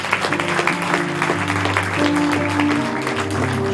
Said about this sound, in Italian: un applauso a una realtà davvero importante del nostro territorio